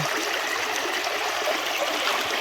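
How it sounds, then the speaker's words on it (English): Water runs steadily through a gold sluice box set in a tight bedrock creek, a close, even, broadband rush with no talk over it. "Same amount of water, same depth, great flow."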